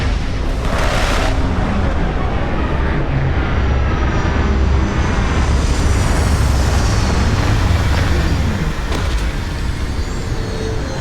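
A spaceship in the Starfield video game roars loudly and steadily as it comes in to land, a dense engine rumble with airy thrust that holds throughout without any speech.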